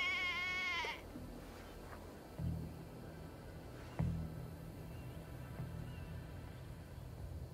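A single clear sheep bleat from Assassin's Creed Valhalla opens the clip, close and wavering, followed by a few soft thuds over a low ambient bed.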